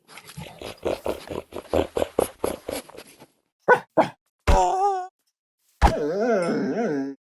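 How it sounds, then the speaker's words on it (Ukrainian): Angry wolf variant in Minecraft snapshot 25W08A: a fast run of rhythmic snarling pants, then two sharp barks and two long wavering howl-like whines, loud and close without speech. "Сердитий вовк звучить ось так."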